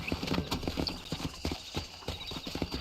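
Horse hooves galloping in the Red Dead Redemption video game, a fast, rhythmic clip-clop of hoofbeats close by and continuous, with faint background ambience.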